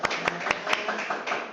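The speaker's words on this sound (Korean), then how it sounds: "우리 이성구 형제에게 감사의 박수를 드리고 싶습니다" Brief applause from a small church congregation at a Sunday service, a handful of sparse, uneven claps over about a second and a half, fairly quiet.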